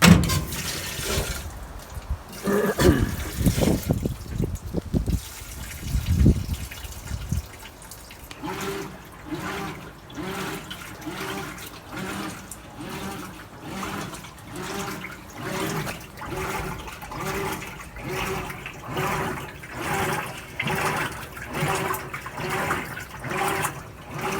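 A GE or Hotpoint washing machine agitating after repair, with sloshing water and a steady rhythmic churning pulse that repeats for a long stretch after some initial splashing.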